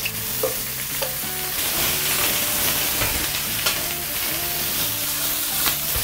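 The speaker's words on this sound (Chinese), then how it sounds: "下入这个姜葱，让它清洗过的牛腩在锅里给它炒一下。" Blanched beef brisket stir-fried with ginger and scallion in hot oil in a wok: a loud, continuous sizzle close by, with frequent scraping and clattering stirs of the spatula throughout and no speech.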